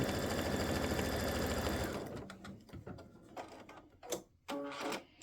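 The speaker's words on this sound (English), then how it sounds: "stitch the first part of color stop number 6. And this is just going to tack down the fabric on the toe of the stocking." An embroidery sewing machine stitches an appliqué on the toe of a Christmas stocking, a loud, fast, steady mechanical whirring that runs for about two seconds, then stops and gives way to scattered clicks and handling noises.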